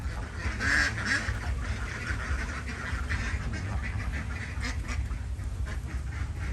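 Ducks on a backyard duck farm quack repeatedly in a dense, overlapping chorus, fairly close and steady, with no talk over them.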